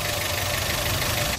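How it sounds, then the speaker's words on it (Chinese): A 2013 Suzuki Swift with a 1.3-litre petrol engine idles nearby, giving an even, continuous low hum with a faint ticking texture. It runs smoothly without revving and with no one speaking. "你听这个怠速的声音"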